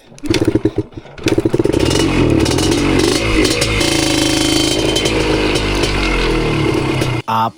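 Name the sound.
motorcycle engine starting and revving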